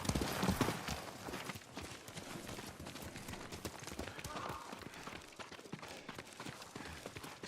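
Horse hooves clip-clop steadily in Ghost of Tsushima after the rider dismounts, a close, continuous patter of hoofbeats with game dialogue spoken over it.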